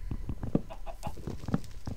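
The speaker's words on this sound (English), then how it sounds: "Hey, chicken." Minecraft chicken clucking nearby in a modded playthrough, a string of short rhythmic clucks with two sharper accented calls, heard alone without talk.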